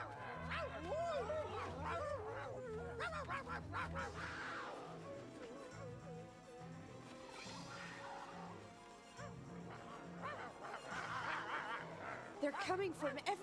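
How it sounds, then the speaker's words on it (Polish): Wild dogs bark and yip in a Simba cartoon episode, repeated excited barks and yelps over busy music and clatter, with voices talking through much of it. "Psy nadchodzą ze wszystkich stron."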